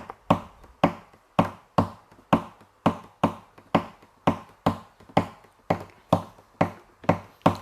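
Rhythmic knocks on an acoustic guitar body between strums, a steady run of about fifteen sharp percussive hits, close and fairly loud, each with a quick ringing decay.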